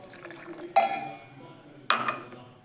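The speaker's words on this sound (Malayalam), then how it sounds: "നമുക്ക് ആവശ്യത്തിനുള്ള വെള്ളം കൂടെ ഒഴിച്ചു കൊടുക്കാം." Water pours into a pineapple milkshake mix in two short bursts, each with a sudden splashy onset that quickly fades. It is close and moderately loud, with quiet room tone between.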